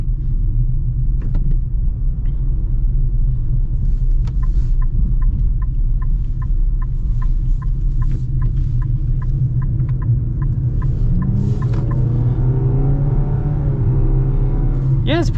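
Interior cabin noise of a car with an Xtronic CVT driving on the road: a steady low rumble and engine hum, with a regular ticking like a turn signal through the middle and a rising drone near the end.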